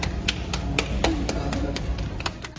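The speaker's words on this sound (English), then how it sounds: "Can you clap?" Roughly a dozen sharp, fairly evenly spaced hand claps in a close, small space, a steady run of single claps over low background murmur.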